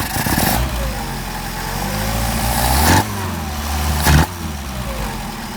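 A Mercedes 190SL engine with rebuilt carburetors rising from idle to higher RPM, a steady close rumble broken by two sharp revving bursts near the end, no talking.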